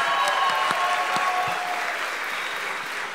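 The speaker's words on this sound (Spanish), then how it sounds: "Un aplauso para doña Virginia," An audience applauds a woman in the crowd at a comedy show, a full, steady wash of many hands clapping that stays loud and then eases slightly, with no talking over it.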